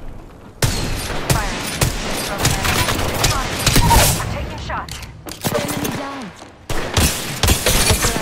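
Apex Legends firefight with dense bursts of automatic and single gunshots, loud and close, crackling in rapid clusters with a voice talking briefly between shots.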